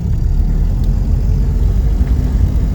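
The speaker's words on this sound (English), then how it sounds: "it's unmistakably an original Mini, just from the noise alone." A 1964 Morris Mini Minor, unrestored MK1, runs with a loud, steady low engine rumble heard from close by, an even drone with no revving, alone without talk.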